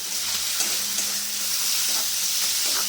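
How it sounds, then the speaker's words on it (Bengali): Tomatoes with kasuri methi sizzling in a pan for moong dal with fish heads, a steady close crackling fry with faint stirring scrapes, no voices. "টমেটোটা কষিয়ে নেবো খুব বেশি পাকাবো না"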